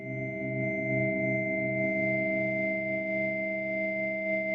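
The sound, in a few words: delay effect with feedback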